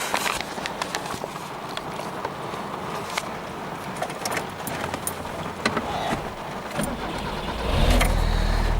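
An old FSO Polonez car engine cranks and catches, then rumbles and revs as the vehicle pulls away, with scattered clicks and knocks around it.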